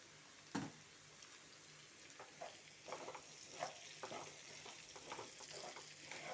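Capsicum and potatoes fry in oil for a mixed vegetable curry, giving a steady low sizzle with a few soft stirring scrapes and clinks scattered throughout, fairly quiet and with no voices.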